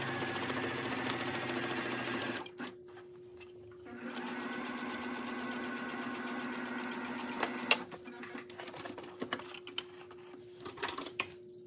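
Sewing machine running close and loud while stitching a seam on a Jos A Bank suit, a steady mechanical whir in long runs broken by short pauses, followed by scattered clicks and fabric handling.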